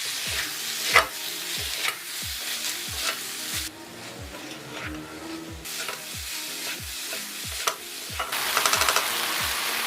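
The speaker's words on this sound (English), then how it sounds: "now I'm going to cook in high flame for about 3 to 4 minutes" Chicken with cabbage, carrots and green peas sizzling in a pan on high flame, with a continuous hiss and a regular rhythm of spatula scrapes and clanks, close and steady throughout.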